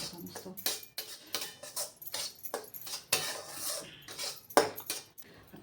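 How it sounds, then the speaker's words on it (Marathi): Semolina roasting for upma in a pan, stirred constantly with a spoon: repeated scraping and clattering strokes against the metal, close and fairly loud, in an irregular rhythm with no talking. "रवा भाजत आलेला जाळून द्यायचा नाही सारखा हलवत राहायचा आहे"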